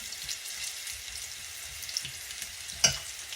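Food fries in grease in a skillet with a soft, steady sizzle and faint crackles, one sharper pop near the end, and no voices.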